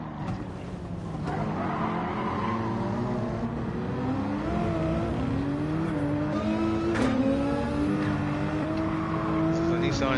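A 690-horsepower Nissan GT-R in Gran Turismo 7 revs and accelerates steadily, its engine note climbing and shifting in pitch throughout, with a voice talking over it.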